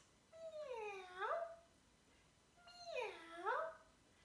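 Two drawn-out meows from a cat, each rising and then falling, heard alone with a short pause between them and moderately loud.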